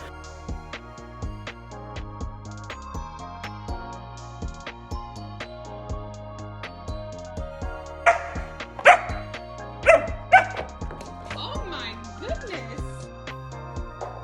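A young, energetic dog lets out a few sharp barks and yips near the end, close and fairly loud, over a steady music bed with a person talking.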